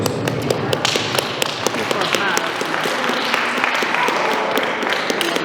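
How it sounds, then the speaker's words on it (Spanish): Wedding guests at a church ceremony applaud the newlyweds after their first kiss, a steady crowd clapping with scattered sharper claps and thuds running throughout, close and fairly loud, with some voices mixed in. "Fuertes aplausos una vez más para ellos."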